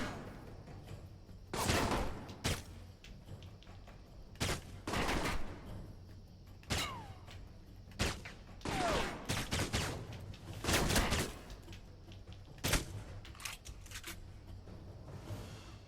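Automatic turret fire from the video game Alpha Protocol rings out in repeated loud bursts, sharp broadband volleys of several shots each spread across the stretch with brief quiet gaps and faint game ambience between them.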